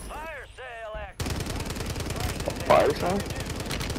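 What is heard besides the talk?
gunfire in the video game Warzone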